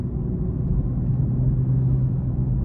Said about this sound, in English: I am in Sport Plus, so as you notice, the exhaust is gonna be louder.